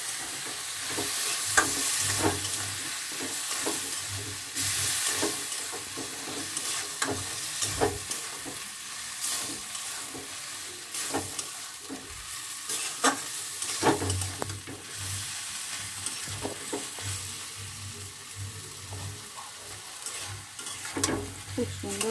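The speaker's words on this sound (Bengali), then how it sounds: "মাছটা ভালো করে কষিয়ে নিতে হবে" Fish being sautéed and stirred in a pan for a winter vegetable dish, with steady frying sizzle and repeated scraping stir strokes running throughout, close and fairly loud.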